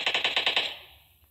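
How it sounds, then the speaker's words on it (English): A quick burst of about seven rapid gunshots in PUBG in even succession, fairly close, then the echo fades away. "I hear my gunshots."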